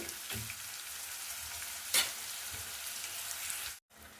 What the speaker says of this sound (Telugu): ఇప్పుడైతే ఇవి బాగా వేగనివ్వాలి ఉల్లిపాయ ముక్కలు